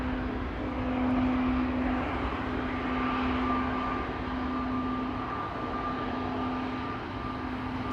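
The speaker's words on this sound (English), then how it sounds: "an A321neo to Istanbul" A Pegasus Airbus A321neo departs for Istanbul, a steady broadband jet roar with a faint whining tone held for several seconds at moderate distance, no talking.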